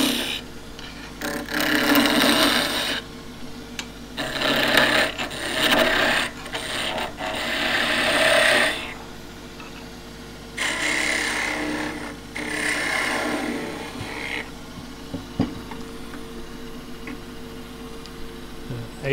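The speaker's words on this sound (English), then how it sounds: "It's a half inch skew chisel." A half-inch skew chisel cuts wood on a lathe while turning a salt scoop, producing rasping, scraping bursts that come and go in uneven stretches, with faint talk underneath at times.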